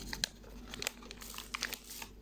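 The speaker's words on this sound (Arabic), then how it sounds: "معايا كيس بيكنج باودر هحطه كله" A paper packet of baking powder is torn open in a home kitchen while making a chocolate sponge cake, giving a few close, crisp crinkles and rips scattered over a couple of seconds.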